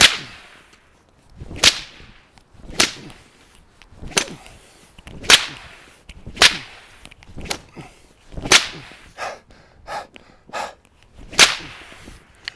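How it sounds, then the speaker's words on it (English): A whip cracks against the top leaves of a plant about nine times in a row. The sharp snaps come at roughly one-second intervals, loud and close, with fainter swishes between them. "we just whipped this thing like 10 times"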